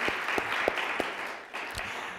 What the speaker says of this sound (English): maybe we give a round of applause for my Nana out here